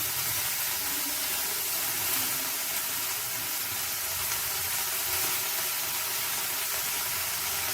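Salted, drained water lily stems fry in hot oil for a Bengali shapla chechki, giving a continuous dense sizzling hiss, steady and close with no talk.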